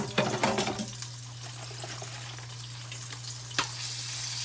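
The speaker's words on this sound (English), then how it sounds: "I'm gonna drop this in the sink." Hot cooking pan set down in a kitchen sink, with a brief close splash and hiss at the start, then low steady sizzling under a constant hum and one sharp clank near the end.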